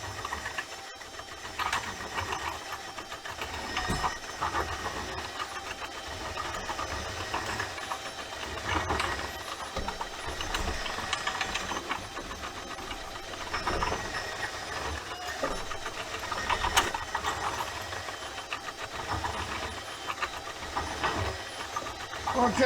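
A Milwaukee M12 cordless drain snake runs in a clogged kitchen drain, giving a continuous whirring motor drone with rattling and hissing that wavers in intensity throughout.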